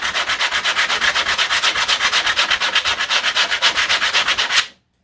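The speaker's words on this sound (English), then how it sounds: "it's still sanding very well" Coarse Velcro sanding pad scrubbing over epoxy fairing in steady, rapid back-and-forth strokes, loud and close, running continuously for several seconds before stopping abruptly with no talk.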